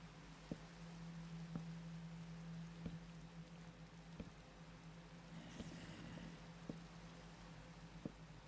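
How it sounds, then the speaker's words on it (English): Minecraft rain in a Minecolonies colony, a faint steady hiss with a low hum and soft periodic ticks, heard quietly with no talk. "there's rain sounds but no rain particles for me"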